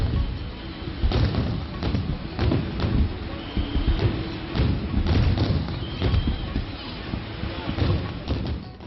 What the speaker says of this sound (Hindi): काशी का आसमान आतिशबाजी से नहाया तो नजारा देखने लायक था